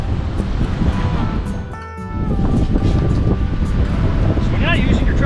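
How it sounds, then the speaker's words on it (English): Strong wind of about 35 mph with gusts near 40 mph buffets a beach campsite at Cape Lookout, a loud, continuous roar that dips briefly and then surges back. "Literally hitting 35 mile an hour wind gusts or sustained winds with like 40 mile an hour gusts"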